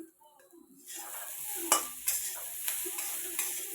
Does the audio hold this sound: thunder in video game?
no